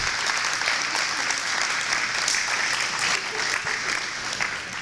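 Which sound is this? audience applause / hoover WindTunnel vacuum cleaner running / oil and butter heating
audience applause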